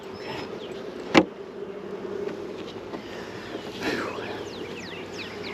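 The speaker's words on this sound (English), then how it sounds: "Quite a few bees." Honeybees buzz around an opened hive, a steady drone with scattered passing wingbeats, broken by one sharp loud snap early on.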